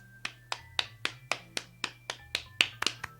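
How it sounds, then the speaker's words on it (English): Sharp claps sound one at a time in a steady, even rhythm, about three per second, close and distinct over a faint electronic hum. "Please welcome her with a warm round of applause."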